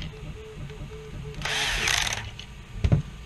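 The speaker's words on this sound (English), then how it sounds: "this is where I'm going to use the power driver" A power driver runs 1/2 inch screws into a Nerf blaster in a short whirring burst, followed by a brief clunk, close and moderately loud.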